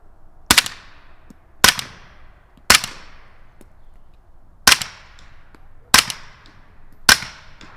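Suppressed shots from a Bam Machine BM15 pistol-caliber carbine, six sharp reports with short ringing tails fired at irregular intervals about a second apart, clear and isolated against quiet outdoor background.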